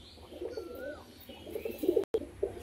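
Pigeons coo softly in a bird-selling setting, low rolling calls repeating close by with occasional higher chirps and wing or cage rustles, no speech.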